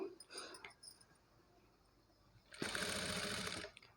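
A sewing machine stitches invisible piping on a pot-neck blouse, one loud, dense burst of running stitches lasting about a second, with softer handling noise before it.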